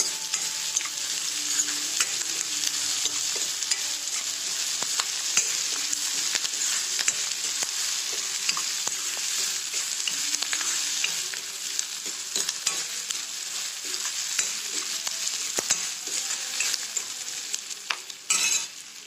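A jowar papdi poha mixture is dry-roasted and stirred in a pan, with a continuous close sizzling hiss broken by frequent small scraping ticks from the spoon, steady throughout with no talk.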